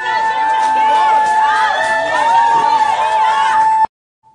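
A crowd at a public gathering in Goiânia boos a speaker with loud, sustained jeers and shouts that stop abruptly.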